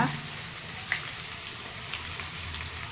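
Onions tossed into hot oil with popping mustard seeds, curry leaves and green chilies, frying into a steady broadband sizzle with a few sharp crackles and pops, close and moderately loud, with no talking.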